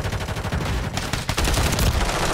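Dense bursts of automatic gunfire from Call of Duty MW3 (2023) on the Stash House multiplayer map, loud and nearly continuous with overlapping shots and a brief dip midway.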